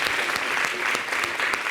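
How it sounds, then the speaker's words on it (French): A French TV studio audience claps for the guest Suspect 95. The applause is dense, steady and close, with no voices over it. "c'est les applaudissements comme ça pour Suspect 95"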